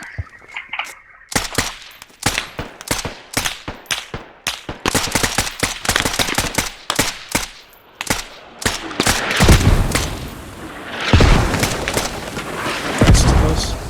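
A video-game firefight with the enemy: loud, close rifle shots crack in rapid irregular bursts and single reports, with heavier booming blasts and rumbling echoes toward the end.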